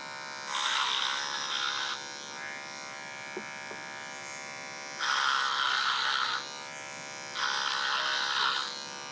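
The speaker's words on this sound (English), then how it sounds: "we're gonna taper the sideburn up to the temple using the same clipper over comb technique" Electric hair clippers buzz close by in three sustained bursts with short pauses between, tapering a sideburn up toward the temple using the clipper-over-comb technique during a barbering haircut.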